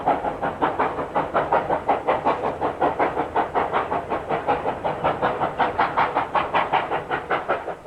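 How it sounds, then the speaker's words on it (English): A preserved steam train labours up the grade towards the Ardglen Tunnel over the Liverpool Range in Australia, its loud, rhythmic exhaust chuffs beating steadily and close with hissing steam underneath. "As the train climbs towards the Ardglen Tunnel"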